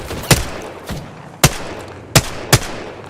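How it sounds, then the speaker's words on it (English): Gunfire in Apex Legends: four sharp, loud shots at irregular intervals, with a softer fifth report between the first two and a steady low background hum. "I am taking fire, friends."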